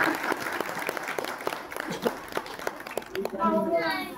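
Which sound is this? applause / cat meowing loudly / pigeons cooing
applause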